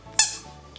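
A red spiky pet toy ball gives a single short, sharp, high squeak up close, fading quickly into quiet.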